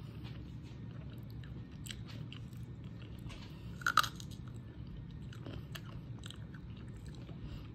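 A Bumble honeycomb chocolate bar is bitten and chewed with faint, close crunching, and one sharper crunch comes midway.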